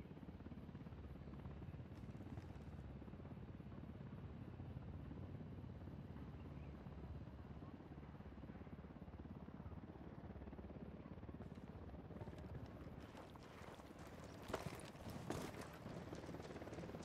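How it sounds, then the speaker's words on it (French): Helicopter in the video game Ghost Recon Wildlands hovering around an oil refinery area, a steady low rotor drone filling the scene with a continuous mechanical rumble, growing slightly busier toward the end. "Baissez-vous, un hélico dans le secteur."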